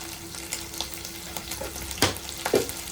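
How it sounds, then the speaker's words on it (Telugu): Curry leaves hit hot oil in a pan, giving two sharp crackling sizzles over a steady low fry, with light stirring scrapes. "నేనైతే కొంచెం కరివేపాకు వేసుకుంటున్నాను ఇందులోనే"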